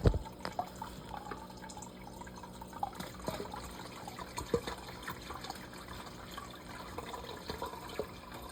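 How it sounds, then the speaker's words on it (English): Treated tap water drips and splashes from a container onto the floor, an uneven run of small close patters and trickles with scattered louder drops. "I'm just dropping water all over the floor."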